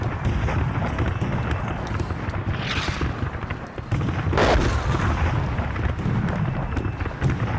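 A continuous rumble of battle gunfire and booming cannon-like blasts plays as a dense, loud sound effect for a Napoleonic-style tabletop wargame report, with a few sharper bursts standing out.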